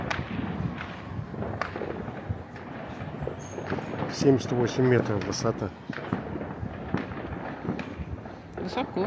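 Fireworks thud and crackle in the distance over a gated neighborhood in Argentina on New Year's, with bursts scattered through the clip while people talk over them.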